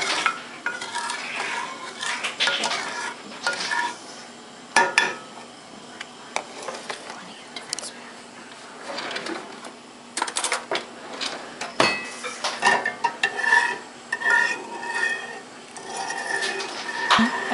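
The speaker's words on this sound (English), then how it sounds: "You wait until the sugar completely melts. Stirring often." A spoon scrapes and clinks against a pot as a sugar and coffee mixture melts. Irregular stirring strokes keep coming throughout, close and moderately loud, with soft sizzling underneath and no speech.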